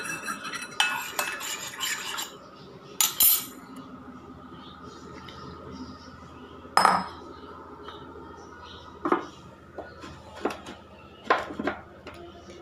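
A spoon stirring curd and a little water into a paste in a cup, heard as light metallic clinks and scraping taps against the cup, scattered and irregular, close and fairly quiet, with faint speech in the background.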